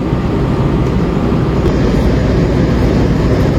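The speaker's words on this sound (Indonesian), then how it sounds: "Kereta api Madiun Jaya sudah masuk di jalur 3 stasiun Kutoarjo" The Madiun Jaya passenger train rolls into track 3 at Kutoarjo station in a loud, steady, close rumble with no voices.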